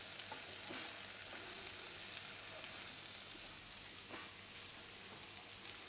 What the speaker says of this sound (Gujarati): ખાલી બધા મસાલા થોડીક વાર એમાં પાકી જાય એમ